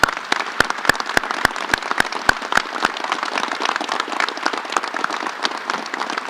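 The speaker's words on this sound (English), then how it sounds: "Let's please all join me with a round of applause for all our award recipients." An audience applauds award recipients at a police division ceremony: a few crisp, evenly spaced claps at first, then a dense, steady patter of many hands that carries on to the end.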